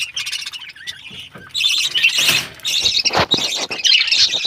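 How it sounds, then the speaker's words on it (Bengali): Two birds kept with backyard ducks and chickens trade bursts of sharp, high chirps and squawky calls, close and fairly loud, alternating with short pauses. "এই পাখি জোড়া খুবই একটা ভালো পাখি, মদ্দা পাখিটা খুবই ভালো।"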